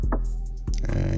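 A short Afrobeat percussion pattern programmed in FL Studio plays alone, with a few sharp hits and a brighter layered burst near the end.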